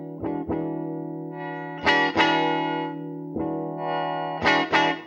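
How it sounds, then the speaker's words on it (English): A Fender '52 Telecaster Relic electric guitar through effects plays pedal-steel-style bends, clear plucked notes and swelling sustained chords in a few separated phrases, loud and alone. "So you can get the pedal steel effects and all that business"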